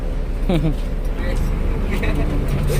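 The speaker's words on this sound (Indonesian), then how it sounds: "Ini ada bis Murni Jaya, depannya ada bis Agramas" Murni Jaya and Agramas buses roll along the road nearby, a continuous low engine and traffic rumble running throughout while someone talks over it.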